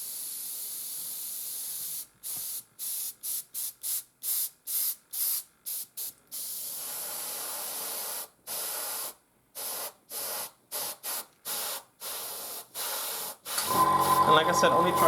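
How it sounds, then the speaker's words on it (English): Short bursts of airbrush spray hiss in a quick rhythm while painting a Panzer IV model, then a few longer sprays, ending with a louder, rougher rush of air. "Then test spray it."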